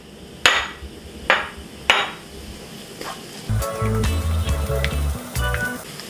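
Crushed shallots, onion and chili mix drop into a hot pan for a Cochin-style fish curry, starting with a few sharp knocks before a steady loud sizzle of frying takes over.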